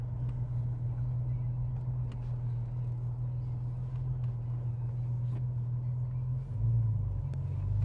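A rare limited-edition classic Porsche 911 sits idling, producing a steady, deep, even engine rumble heard close up that barely changes over the whole stretch.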